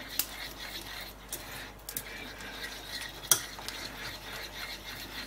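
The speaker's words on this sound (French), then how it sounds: "Je brasse toujours, hein, jusqu'à ce que l'œuf se coagule pour lier ma crème." A spoon stirs egg into a cream sauce with melted butter in a pan, a steady low scraping and swishing with a few sharp clinks against the pan.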